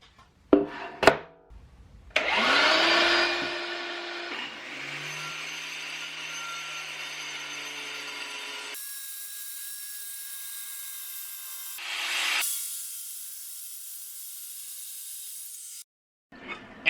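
Makita dustless tile cutter slicing thick solid-surface quartz with a shop vac attached, a long steady grinding whine over the vacuum's roar, which keeps running briefly after the cut ends, close and without speech.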